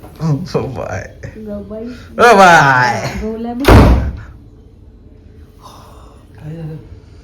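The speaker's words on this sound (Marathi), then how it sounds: "दरवाजा आपटला." A door slams shut once with a loud, heavy thud in a house, following bursts of excited talk and a gasp, then the room goes quieter with faint murmuring.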